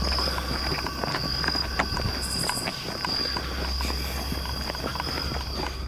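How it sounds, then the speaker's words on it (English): Footsteps of someone walking outdoors at night, a steady series of soft crunching steps at middle distance over constant insect or cricket drone, with no talk. "I hear somebody walking, and it's not our freaking footsteps."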